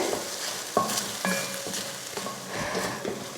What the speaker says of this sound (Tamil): இது போல் ஒரு 2 நிமிஷத்துக்கு இந்த மாதிரி எண்ணெயில் வதக்கி எடுத்துகிட்டு